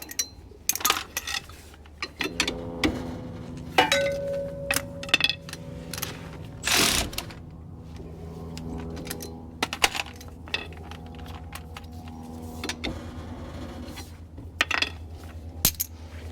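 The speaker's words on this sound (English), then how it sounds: "Throwing sockets down, wrenches down." Metal sockets and wrenches are thrown down one after another while a 1970 Plymouth Cuda is parted out, giving sharp, ringing metallic clanks and clatters with quiet gaps between them.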